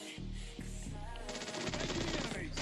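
Gunfire crackles in a multiplayer shooter video game, with a rapid burst of several close shots followed by a denser rattling volley.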